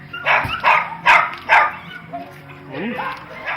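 Dogs bark close by in a quick run of four loud, evenly spaced woofs, then the barking trails off into quieter yips and whines against a low background hum.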